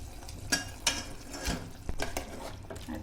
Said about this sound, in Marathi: आता हे छान असं परतून घ्यायचंय चिकन.